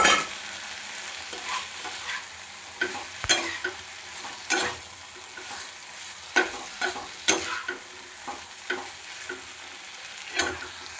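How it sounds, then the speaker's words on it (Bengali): Pre-fried potatoes being sautéed in a pan, with a continuous close sizzle and a string of sharp scraping stirs recurring every second or so. "আলুটা দিয়ে খুব ভালোভাবে কষিয়ে নেব"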